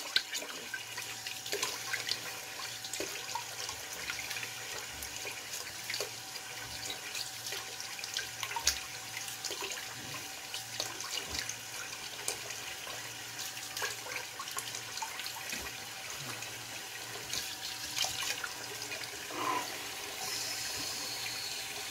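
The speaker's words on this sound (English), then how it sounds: "Let me rinse off." A tap runs continuously as someone rinses off after a shave, a steady hiss of splashing water at moderate level with faint clinks and drips over the whole stretch.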